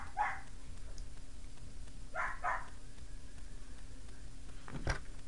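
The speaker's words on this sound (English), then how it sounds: "My dog's barking at our cat." An indoor dog barks at a house cat in a few separate outbursts: a short bark near the start, a quick double bark midway and a brief yelp toward the end, all at moderate distance with no talking.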